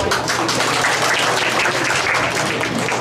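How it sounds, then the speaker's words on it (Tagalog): Children applauding at a national chess tournament, a steady, dense patter of clapping that fills the whole stretch at moderate loudness with no talking over it. "O mga bata, palakpak kayo."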